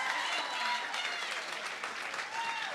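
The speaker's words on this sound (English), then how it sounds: "Folks, a huge round of applause for heads or tails." Applause from a crowd at a Big Brothers Big Sisters of Northern Sierra event, a steady wash of many hands clapping with faint voices mixed in underneath.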